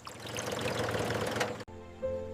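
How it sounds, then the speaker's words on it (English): Water poured into a rebuilt bus engine, a continuous splashing pour that stops abruptly near the end, followed by a quieter tonal hum. "Cool mountain water prepares the engine for its long-awaited awakening."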